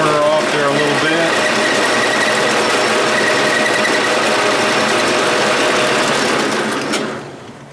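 A milling machine cuts a chamfer on the corner of a metal workpiece, a loud continuous whining, squealing grind that holds steady for several seconds and then winds down at the end.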